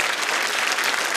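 A studio audience at a comedy show applauds, a dense, steady burst of clapping filling the whole moment.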